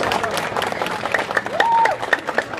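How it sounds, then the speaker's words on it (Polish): Audience applause at an internet-censorship protest against ACTA 2 in Poland: dense, sustained clapping from a crowd with scattered cheers and a whistle, loud and close throughout, with some voices mixed in. "Brawa dla kolejnej odważnej osoby!"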